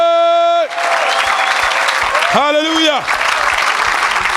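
A church audience applauds and cheers for a children's team, loud sustained clapping across the clip, with a sung or shouted voice rising above it briefly at the start and again midway.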